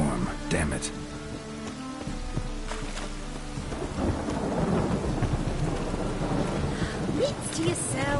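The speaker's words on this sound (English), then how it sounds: "A storm, damn it." Thunderstorm with steady heavy rain and rumbling thunder in the video game The Witcher 3, a loud continuous wash of rain with thunder rolls building over several seconds, with voices talking over it.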